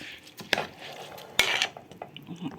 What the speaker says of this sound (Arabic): دلوقتي انا ابتديت ان انا انزل بالرز على الصلصه بتاعتي، وهبتدي اقلب